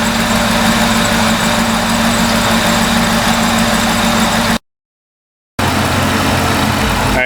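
A supercharged engine in a 2002 Ford F-150 Lightning runs at a steady idle, loud and close, with a constant low rumble that carries no voices. It cuts out briefly for about a second before resuming.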